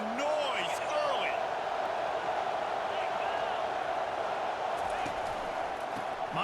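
Steady stadium crowd roar from College Football 25, a dense continuous wash of cheering with faint whistles and calls throughout, under a commentator's voice.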